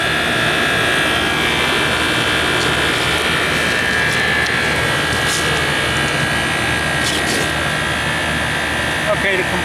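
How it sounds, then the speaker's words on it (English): A scroll compressor that replaced an old reciprocating unit runs with a loud, steady whirring hum and a high whine layered on top. The noise is constant and close, with a voice talking faintly underneath. "Okay, the compressor's running now."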